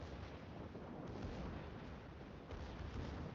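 Heavy naval gunfire and shell impacts in the video game World of Warships, HE salvos from a Harugumo destroyer hitting a Montana battleship: a dense, continuous rumbling barrage of booms with no talk.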